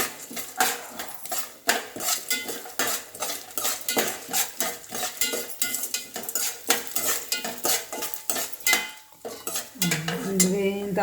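Pumpkin and melon seeds roasting in a pan, stirred with a metal spoon: rapid, irregular scraping and clinking against the pan over a faint sizzle, close and continuous, with no talking.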